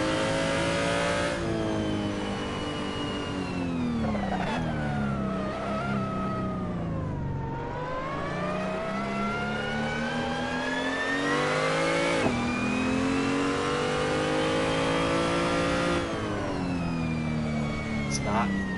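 A car engine revs continuously, its pitch sweeping up and down through several surges and dips, loud and steady throughout, heard from inside the car.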